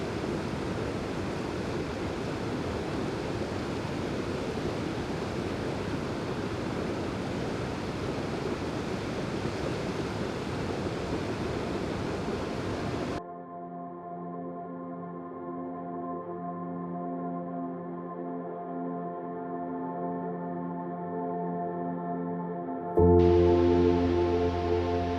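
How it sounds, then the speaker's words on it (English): A river runs past a campsite in Mt Rainier National Park, a steady broadband rush for about half the span, then cut off and replaced by sustained tonal, music-like sound. "The soothing sound of the river made for a peaceful night's sleep."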